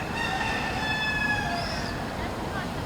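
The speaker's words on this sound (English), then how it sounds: "the sound of peacocks and cockerels that wander around freely" A free-roaming cockerel in Oporto, Portugal crows in drawn-out, slightly distant calls, the cries rising and falling over a steady bed of background noise.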